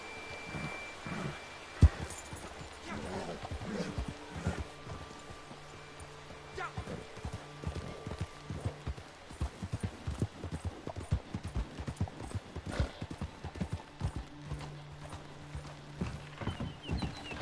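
Horses clip-clopping in a video game, a long run of hooves striking in uneven clusters with occasional louder hits, near and moderately loud over a soft tonal game background.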